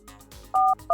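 A telephone number is dialed, with short, loud keypad tones sounding one after another over faint background noise.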